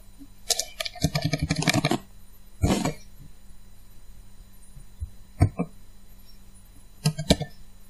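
Keys clatter on a computer keyboard in quick bursts of typing, separated by quiet pauses and a few isolated keystrokes, fairly close and clear.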